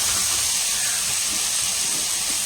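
Green and white cabbage dropping into a hot pan sets off a steady, loud hiss of steam and sizzle that fills the short moment without a break.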